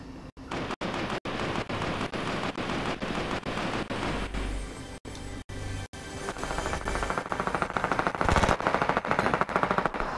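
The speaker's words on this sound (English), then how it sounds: "Actually, there's someone here shooting. Someone trying to shotgun." Gunfire in a video game with a shotgun, a loud, dense and rapid stream of shots with brief gaps, continuing steadily throughout without talk.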